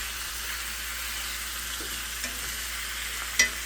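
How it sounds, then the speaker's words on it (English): Seasoned birria meat sears in a hot pan, a steady close hiss of sizzling fat with a few faint stirring scrapes and no voices. "listen to that sear"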